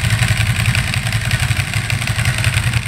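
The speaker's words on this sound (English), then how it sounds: "Now, that is what a proper Ducati sounds like." Ducati Monster S2R with Termignoni carbon exhaust pipes and an open clutch, 7k miles, idling loudly close by with a deep, lumpy, uneven throb and clattering mechanical texture, no talk.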